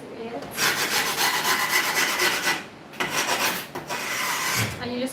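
Rasping, scraping strokes as grip tape on a scooter deck is scored along the edge, loud and close, in long continuous passes with short pauses between.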